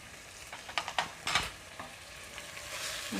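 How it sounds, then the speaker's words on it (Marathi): Spices and mutton masala sauté in a pan for mutton curry, a soft steady sizzle broken by several scraping stirs near the start, close and fairly quiet with no talking. "आपण मसाले पुन्हा चांगले परतून घेऊया आणि चवीनुसार मीठ घालायचे."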